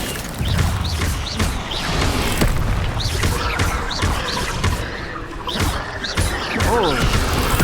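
An Incendio fire spell cast in the Hogwarts video game sets off repeated booming, crashing bursts amid combat clatter, loud and dense across several seconds, with a voice speaking briefly.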